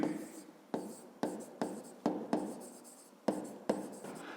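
Pen or chalk writing out a math equation, a series of quiet close scratching strokes in short bursts, each starting with a sharp tap, with soft pauses between them.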